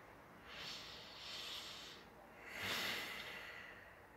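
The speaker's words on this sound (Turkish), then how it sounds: "Öyle nefes almak zorunda kalıyorum." Heavy, labored breathing from a COVID patient: two long, hissing inhalations or exhalations, each lasting over a second, close and fairly loud, with no talk.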